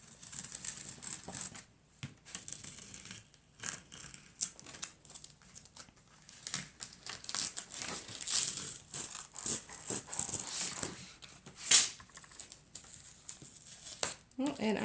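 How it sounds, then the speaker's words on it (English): Tape peeled off paper and paper ripping along the edge after a candy painting, heard as bursts of crinkly tearing and rustling with pauses between, fairly close and moderately loud, with a few brief clicks. "And I am ripping my paper"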